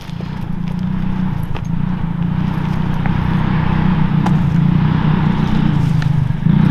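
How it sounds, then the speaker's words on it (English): A Coleman B200RSV mini bike fitted with a 2-inch lift kit runs with a steady, low, throbbing exhaust note that holds close and loud throughout while being ridden. "Lifting it, that exhaust sounds real good."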